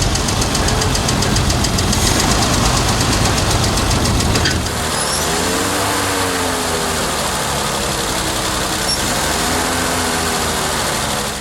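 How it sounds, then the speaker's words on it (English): The original engine of an 80-year-old Dodge truck cranks and catches with a loud, rough start, then settles into a steady, uneven idle with a knocking rhythm, close to the microphone. "This engine will crank and it will start."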